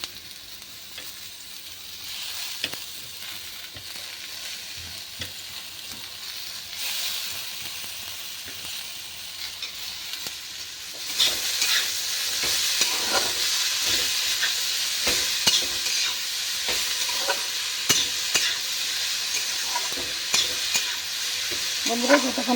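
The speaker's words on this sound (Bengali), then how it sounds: "তো এইটা আমি ভালো করে লাল করে ভেজে নেব।" Potatoes fry in a pan for a fenugreek-and-potato curry, with constant sizzling and hissing. Repeated scrapes and clinks of stirring grow louder and busier partway through, and no one speaks.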